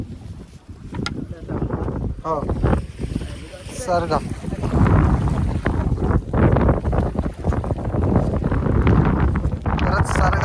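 Strong wind buffets a fishing boat out at sea, a constant roaring rush over the microphone with engine and water noise, while people talk in Marathi throughout.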